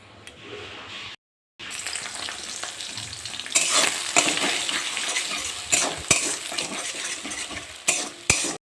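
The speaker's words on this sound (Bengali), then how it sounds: "কড়াইতে দুটো ডিম ভেজে নেব।" Two eggs fry in a wok with a steady bright sizzle that drops out briefly, then returns louder with scraping and clinks of a utensil against the pan, close up and with no talking.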